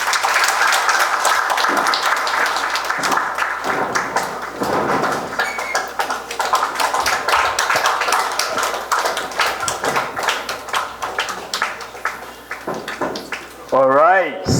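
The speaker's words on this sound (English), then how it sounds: "another round of applause for the President" Audience applause for the President at a Law Society plenary, a long dense run of clapping with cheering voices mixed in, steady and loud throughout before tapering near the end.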